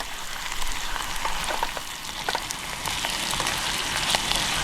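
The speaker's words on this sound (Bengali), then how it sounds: "ডিমটা একেবারে পেঁয়াজ তেলেই ভেজে নিচ্ছি" An egg frying in onion-flavoured oil at a tent campsite, a dense crackling sizzle with light spattering pops, close and steady without talk.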